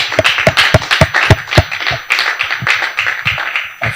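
A church congregation claps to acclaim the Lord in loud, rhythmic hand claps landing roughly three to four per second, close and unaccompanied by talk.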